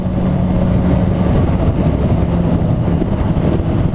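Two Harley-Davidson motorcycles cruising on the road, a steady low engine rumble with wind buffeting, loud and continuous with no voices.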